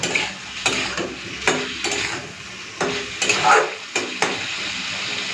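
Potato and paneer curry being sautéed in a pan, with a soft sizzle under repeated scraping strokes of a spoon against the metal, coming in irregular bursts close by.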